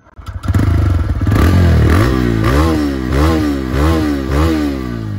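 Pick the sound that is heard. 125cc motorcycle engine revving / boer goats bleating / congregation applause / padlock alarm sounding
125cc motorcycle engine revving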